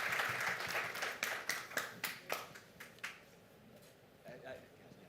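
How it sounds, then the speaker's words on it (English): Audience applause for conference panelists at a public health meeting session, a burst of clapping with sharp individual claps that thins out and fades over several seconds, a faint voice underneath. "So I think we should all give a round of applause to all of our panelists, both virtually and on the platform"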